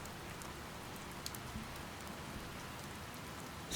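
Steady rain falls in a forest, a dense even hiss of drops with no pauses, at a moderate, unvarying level and without any voices.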